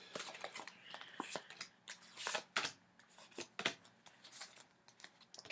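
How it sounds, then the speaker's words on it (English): Tarot cards are shuffled by hand, soft riffling and flicking bursts at close range, quiet and irregular, with faint speech in the background. "One more shuffle."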